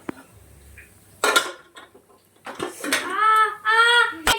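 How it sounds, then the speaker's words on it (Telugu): A pressure cooker lid is turned and set in place on a stovetop cooker: several sharp metallic clanks and scrapes, close and fairly loud, with bright ringing hits near the end and brief voice-like sounds between them. "అప్పుడు ఉప్పుడు కుక్కర్ మూత తిరిగేసి పెట్టుకుందాం"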